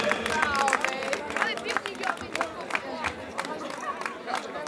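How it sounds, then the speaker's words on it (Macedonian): A carnival crowd claps and cheers at an award announcement, with loud applause and overlapping voices filling the space. "Аплауз"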